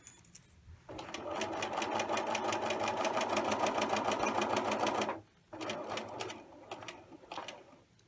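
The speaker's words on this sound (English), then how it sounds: "And then back stitch at the bottom and remove your fabric." A sewing machine stitches a flat fell seam, a fast rapid-fire mechanical chatter running steadily for several seconds, pausing briefly, then a shorter burst of back-stitching, close and clear with no voices.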